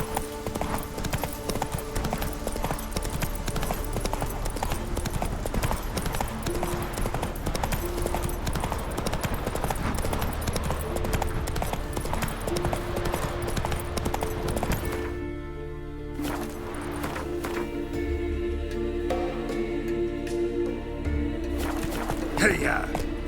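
Horse hooves clip-clopping while riding in the video game The Witcher 3: Wild Hunt, a continuous rhythmic trot of hoofbeats, fairly close, with game ambience and a voice talking over it.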